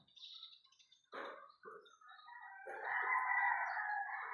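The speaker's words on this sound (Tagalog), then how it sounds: "kung naririnig yung mga ibon yan, taas sa bubong yan" Birds chirp and tweet from a rooftop in a Parañaque barangay in the Philippines, a high thin call at first, then a few sharper notes and a louder, sustained warbling song near the end, with no voices.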